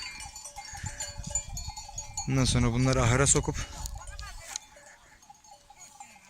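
A flock of sheep being watered on a highland pasture, one loud nearby bleat rising over the herd, with someone talking over the animals before and after.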